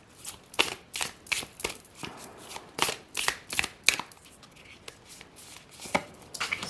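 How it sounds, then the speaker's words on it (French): Oracle cards are shuffled and drawn from a deck by hand, giving a close series of quick, crisp riffling snaps and flicks in irregular bursts, with short pauses between them. "on va se piger une petite carte"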